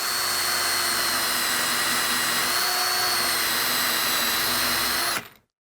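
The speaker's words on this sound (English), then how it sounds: "and then we'll drill our hole" A power drill whines steadily and loudly up close for about five seconds while drilling a hole in a wooden board, then cuts off abruptly into silence.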